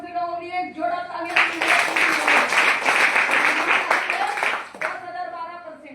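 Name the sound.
audience applause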